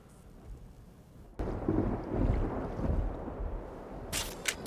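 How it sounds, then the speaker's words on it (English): Thunder from a storm in Mass Effect Legendary Edition rumbles in low and heavy after a quiet start, rolling for several seconds with rain-like hiss underneath, and a brief sharp rattle near the end. "We got a storm coming in, I guess."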